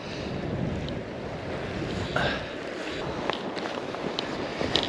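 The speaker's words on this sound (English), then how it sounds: "The wind is pretty relentless" Steady wind gusts along the River Ayr at Muirkirk, blowing as a broad continuous rush with a few brief knocks and rattles, close to the microphone and sustained throughout with no talking.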